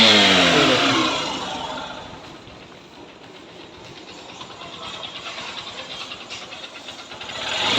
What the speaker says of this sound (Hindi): ये हमारी बाइक स्टार्ट हो चुकी है